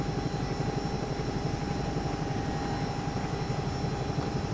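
Bell 222UT helicopter in the X-Plane flight simulator, engine whine and rotor beat running steady and close, a fast regular thump under a constant tonal hum.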